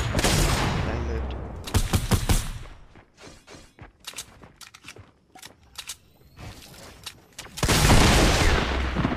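Gunfire in the video game Fortnite comes as several quick shot bursts and loud blasts over constant game noise, with some brief quieter gaps.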